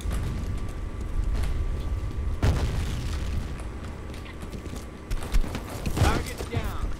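Grenade blasts in a combat video game set on an office map: a few sharp, booming explosions land at uneven gaps amid steady mechanical game noise, with a voice now and then.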